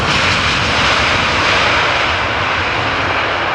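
An airplane at Amsterdam Schiphol Airport roars steadily and loudly throughout, a close, dense engine rumble with broadband jet noise and no voices.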